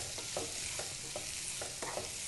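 Ivy gourd (dondakaya) pieces fry in a pan while being stirred, a steady sizzle broken by rhythmic scraping strokes about every half second, close and with no voices.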